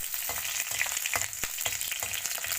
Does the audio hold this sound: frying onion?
yes